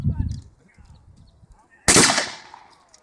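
Musket gunfire at a historical battle reenactment with militia, one loud close volley cracking sharply after a stretch of someone talking and distant crowd sounds, then decaying in a rumbling echo.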